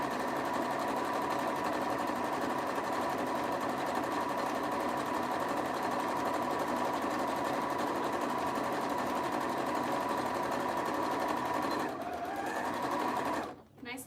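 Knit fabric run through a sewing machine gives a continuous close motor hum with a rapid stitching rattle lasting about twelve seconds, then it slows and stops with a brief clunk at the end.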